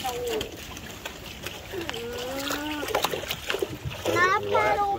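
Canoe paddles splash in swamp water in brief wet bursts, close by, while children talk and call out over the top throughout.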